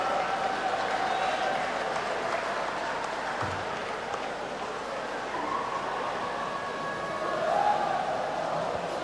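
Sustained applause from a crowd at a short course swimming championship fills an indoor pool venue, a steady broad wash of clapping that holds evenly throughout with a slight swell near the end.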